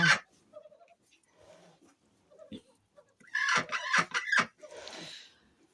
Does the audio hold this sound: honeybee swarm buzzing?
no